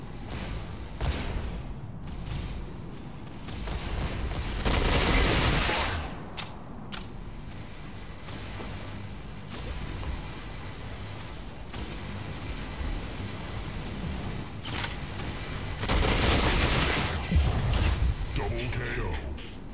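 Mech weapons opening fire in a Mech Arena tournament match, bursts of heavy shooting and booms in two loud surges amid mechanical clanks and creaks, with a voice talking over the action.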